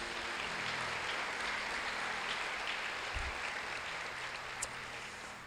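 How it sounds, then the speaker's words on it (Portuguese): Church congregation applauding at an evening service, a steady, moderately faint wash of clapping that holds for several seconds without talk. "Você pode aplaudir o Senhor Jesus"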